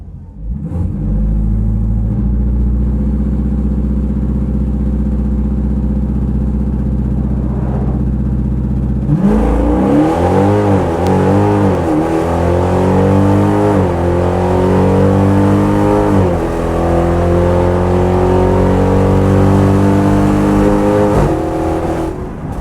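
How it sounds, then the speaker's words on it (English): A naturally aspirated 392 Hemi stock-tune drag car idles with a loud, deep rumble, then revs hard and launches off the transbrake, engine pitch climbing through repeated sweeps as it pulls away. "Transbrake, both paddles, brake, rev up, bump to pre-stage, let go of a paddle, let go of a brake, and then go."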